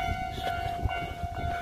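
A railroad crossing bell in a residential neighborhood of Gakuenmae, Nara, rings as a steady, faint electronic tone from some distance, with low street rumble underneath.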